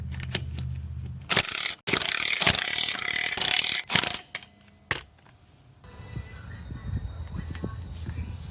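A wrench ratcheting lug nuts onto the custom wheels of a truck in a garage, with bursts of rapid clicking, a few metallic clanks, then quieter handling noises as someone speaks.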